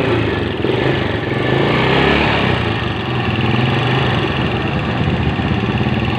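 A Yamaha Jupiter Z motorcycle engine runs steadily and loudly nearby, a continuous mechanical drone with a slight rattling knock said to come from the front, holding an even level throughout with no talking.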